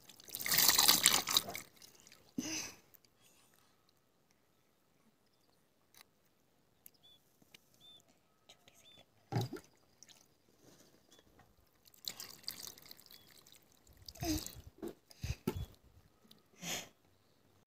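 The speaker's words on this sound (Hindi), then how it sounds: "अब देखिए आप यशिका किस तरीके से पानी को एंजॉय करती हैं" Water splashes and drips during a seven-month-old baby's bath, with a loud splash at the start and scattered bursts of sloshing and trickling later, separated by quiet gaps.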